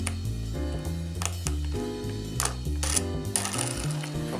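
Wing nuts and washers being screwed down onto a homemade tofu press, a run of close, rhythmic ratcheting clicks and metallic turning sounds with no voice.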